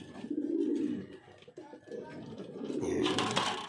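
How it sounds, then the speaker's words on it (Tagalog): Pigeons in a pigeon loft coo in soft, low, rolling phrases, several birds close by and overlapping, with faint background noise and rustling. "itong ibon na to, hiniram to ni si Arnold Lopez."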